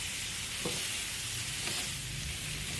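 Shrimp stir-fried in a wok with salt and chili and a splash of Chinese cooking wine, giving a steady, dense sizzle and hiss throughout with faint stirring scrapes underneath.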